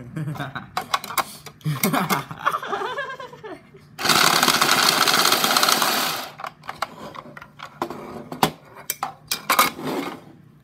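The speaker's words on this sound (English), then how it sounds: "put the cards in the shuffler." Automatic card shuffler whirring through a deck of playing cards during a game of speed, a dense mechanical rattle lasting about two seconds in the middle, with people talking before and after.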